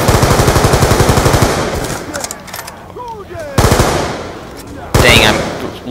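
Rapid bursts of automatic machine gun fire in the Black Ops 2 Die Rise zombies map, loud and close, with sharp repeated shots in several volleys and brief pauses between them.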